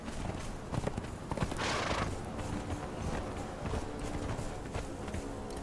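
Horse hooves clip-clopping steadily as a mount is ridden in the video game Conan Exiles, a continuous busy rhythm at moderate level with a brief louder rush of noise partway through.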